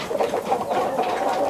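Tiger breed chickens cluck on a poultry farm, a brief run of soft repeated clucks heard nearby.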